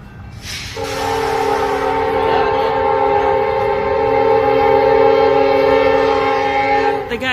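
Train horn blaring loud and sustained at a US railroad crossing as the train approaches, a brief rumble first, then a long steady multi-tone blast lasting several seconds, close and alone.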